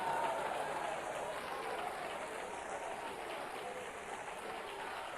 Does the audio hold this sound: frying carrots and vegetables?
no